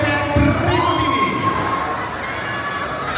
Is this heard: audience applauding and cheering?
yes